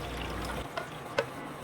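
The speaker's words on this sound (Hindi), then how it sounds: "आप देख सकते हैं दाल काफ़ी अच्छी तरह धुल रही है।" Water is poured over daal lentils in a bowl to rinse them, a steady close pouring wash that stops after about half a second, followed by a couple of faint drips and small splashes.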